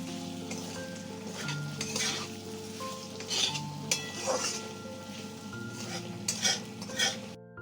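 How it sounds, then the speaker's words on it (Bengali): Capsicum stir-fried with a sprinkle of salt in a pan for chilli paneer gives a steady sizzle with repeated scraping and stirring clinks against the pan, over a continuous tonal backdrop. "লবণটা দিয়ে আর একটু ভেজে নেব।"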